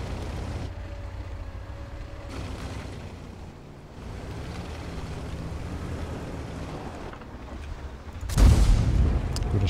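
A tank cannon in World of Tanks fires a deep, heavy boom near the end over a steady rumble of engine and wind-like noise.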